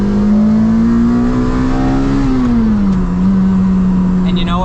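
A Lotus Elise engine revs loud and close through a series of corners, its pitch holding high then dipping as the driver blips and brakes before turning in.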